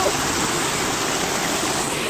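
A small waterfall running after rain, a steady close rushing roar of falling water with no break across the moment.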